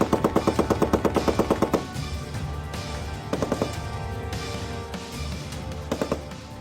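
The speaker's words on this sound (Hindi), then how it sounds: "दुश्मन को नेस्तनाबूद करने के लिए तोपों के गोले बरस रहे हैं।" Indian Army artillery and gunfire during a military exercise: a rapid string of sharp regular shots at the start, then heavy booming blasts and further short bursts of fire over a dense, rumbling background.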